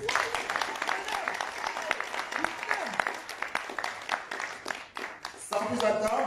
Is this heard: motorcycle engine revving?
no